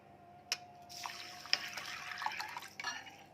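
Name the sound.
water being poured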